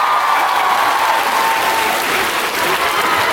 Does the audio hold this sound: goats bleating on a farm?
no